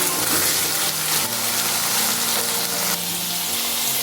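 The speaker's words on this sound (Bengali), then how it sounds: "চানা পনিরের মধ্যে আমি অল্প আলু দিচ্ছি, এটাকে ভেজে তুলে রাখবো।" Salted potato pieces fry in hot oil in a pan for chana paneer masala, a loud, steady, close sizzle that continues unbroken with no voices.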